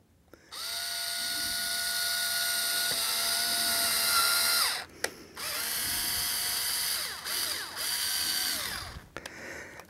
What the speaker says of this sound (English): we'll go ahead and drill some pilot holes here